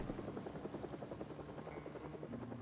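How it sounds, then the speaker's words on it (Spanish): Helicopter passing overhead in the video game Project Zomboid, a rapid rhythmic rotor thumping that stays faint and distant yet steady throughout. "Wow, el helicóptero."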